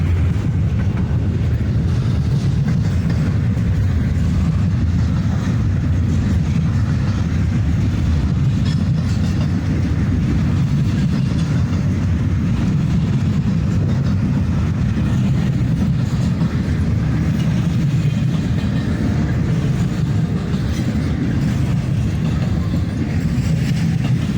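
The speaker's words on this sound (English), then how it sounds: "As soon as this train passes, I'll walk on over there." A train rolls past steadily throughout, a loud continuous low rumble with faint rail clatter, close by and with no talking.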